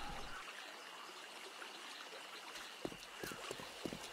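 Wading through water in the video game 7 Days to Die: a faint, steady watery rush and trickle, with a few soft splashy knocks toward the end.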